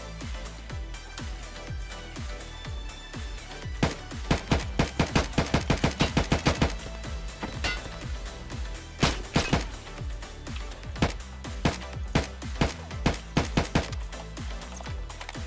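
Video-game gunfire, with rapid bursts of sharp shots hitting the player in a shootout, as volleys crack out in quick clusters with short pauses between them, loud and close throughout.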